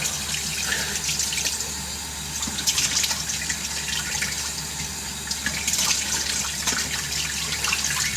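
Cold water runs steadily from a tap into a sink in Japan, a continuous close splashing stream with slight surges, no talking over it.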